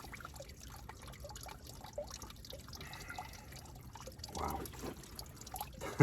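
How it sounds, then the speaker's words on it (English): A cup dips into a deep natural spring pool, giving faint trickling and dripping water sounds over a soft outdoor background, followed by a clearer splash-like burst near the end. "Just dip right here in this deep pool."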